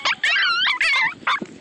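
A dog close by lets out a quick run of high, whining yips and whimpers at an Easter family gathering, the excited cries coming in several short bursts.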